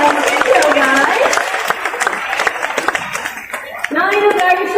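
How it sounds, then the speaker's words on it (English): Audience clapping at an event rings out under and between voices, with distinct sharp claps, and speech rises again near the end. "And Gabby a round of applause."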